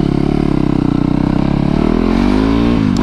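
A supermoto motorcycle engine idles with a loud, steady rumble close by, then revs upward with rising pitch near the end before cutting back briefly.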